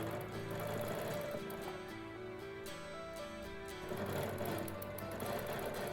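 Sewing machine stitching a quilted hexagon along a template, a soft steady hum that slows and pauses briefly partway through before running on again, close and moderately quiet.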